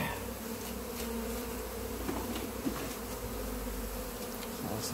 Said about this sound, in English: the bees over there don't look very happy at all